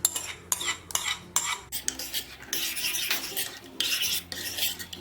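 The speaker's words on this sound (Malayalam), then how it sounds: "ഈ സമയം നമ്മൾ ഉടച്ചെടുത്ത് വെച്ചിരിക്കുന്ന തൈര് ഇതിലേക്ക് ഒഴിച്ചിട്ട് ഇളക്കി കൊടുക്കാം." Curd being poured into a mashed mixture and stirred with a spoon in a home kitchen, giving several short scraping and clinking strokes against the vessel followed by longer rubbing stirs, close and fairly quiet.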